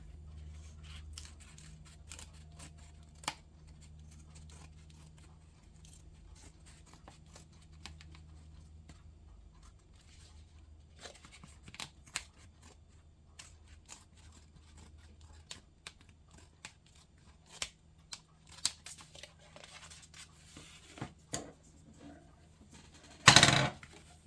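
Scissors snip through a paper plate for a goat craft, giving scattered close, crisp cuts and small rustles over a quiet room hum, with a louder handling clatter at the very end.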